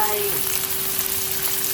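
Steady, dense sizzling of chicken breast frying in a hot wok for Thai basil stir-fry, a continuous crackling hiss throughout with a faint tone lingering under it.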